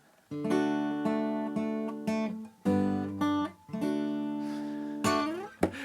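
The short, bright insurance jingle of plucked notes plays alone in a simple rising and falling pattern, ending with a final flourish.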